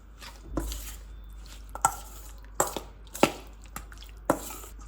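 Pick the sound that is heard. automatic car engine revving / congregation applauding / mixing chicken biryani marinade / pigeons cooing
mixing chicken biryani marinade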